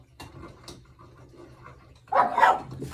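A dog indoors gives a few soft muffled woofs and then one louder, sharper bark close by near the end.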